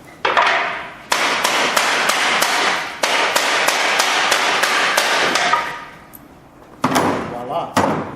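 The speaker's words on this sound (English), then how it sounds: "I know a hammer. I have this nice piece of Delrin here that's pretty substantial." A hammer pounds a substantial piece of Delrin in a close, loud run of about a dozen evenly spaced blows, then a pause and a few more sharp strikes.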